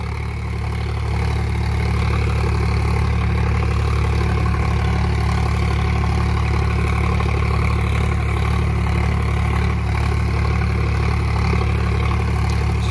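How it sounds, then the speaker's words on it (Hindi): A 2019 Sonalika tractor with 13-inch tyres pulling a 9-tine cultivator, its diesel engine running with a loud, steady low drone and rhythmic throb plus light clatter, continuous throughout without talking. "2019 मॉडल ट्रैक्टर है ये, 13 के टायर, 9 हल वाली कल्टीवेटर।"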